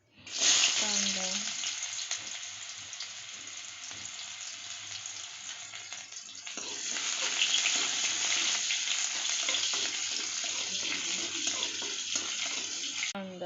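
Onion and cumin fry in a pan for a spiced leftover-chapati dish, a loud close hiss and sizzle that swells midway with occasional stirring clatter.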